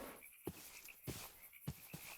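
Frogs in the Minecraft video game croak faintly in short, evenly spaced bursts, about three or four of them against quiet background ambience, with no voices.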